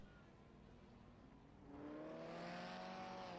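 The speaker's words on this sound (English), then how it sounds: "Doing some burnouts, why not?" A race car doing burnouts after a Daredevil Series race: a faint steady engine drone that swells into a louder revving whine with rising tones partway through, with no talking.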